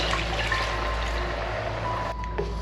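Homemade chicken stock made from boiled chicken bones pours steadily into a pot of Nepali khichadi, a continuous close liquid rush and trickle with no talk.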